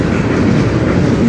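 A CN manifest freight train led by two CN locomotives rolls past in Sarnia, Ontario, giving a steady, loud rumble of railcars with faint wheel clatter and no pauses.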